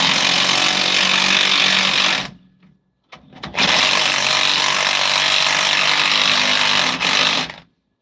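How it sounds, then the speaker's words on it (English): A loud pneumatic impact wrench drives an 8 mm bolt on a Toyota Pre Runner pickup, hammering in a sustained burst that breaks off briefly and then resumes before stopping abruptly. "See if the impact will run it in."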